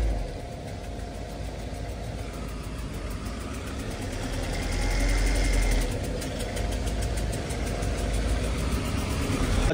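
A truck engine rumbles steadily as the vehicle pulls slowly into a company yard in Chhattisgarh, a continuous low drone that swells slightly midway, close and loud, with no talk.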